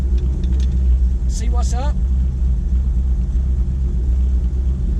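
A low, steady truck engine rumble idling after a burnout at Memphis International Raceway, the truck running rough, constant and close throughout, with a brief spoken phrase near the start.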